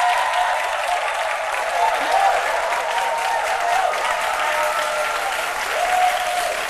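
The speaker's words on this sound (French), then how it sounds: "je voudrais qu'on applaudisse très fort, que le public puisse s'applaudir très très fort." A television studio audience applauds loudly and steadily throughout, a dense continuous wash of clapping with a faint musical tone or hum running beneath it.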